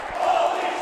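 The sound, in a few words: wrestling crowd cheering at live event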